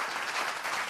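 A brief burst of dense, enthusiastic audience clapping at a Tamil school-themed stage show, loud and steady for about a second with no voices over it.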